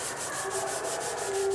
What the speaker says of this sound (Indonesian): kita akan lanjutkan proses pengamplasan. Pertama menggunakan amplas 120 ya